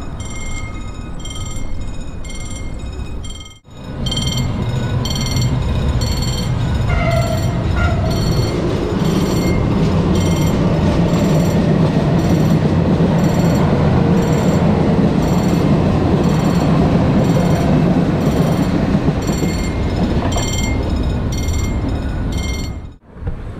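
A train passes close by with a loud, steady rumble and metallic clatter for about twenty seconds. It starts abruptly after a brief lull and cuts off at the end, with no voices over it.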